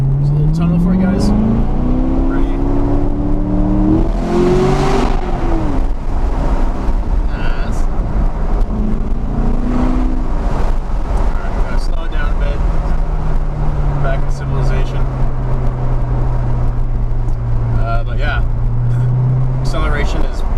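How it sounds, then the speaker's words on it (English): A stock 2017 Chevrolet Corvette Grand Sport with a manual gearbox accelerates hard, its engine note rising and falling through gear changes under constant loud road and wind noise, heard from inside the cabin. "Acceleration is pretty brutal in this car."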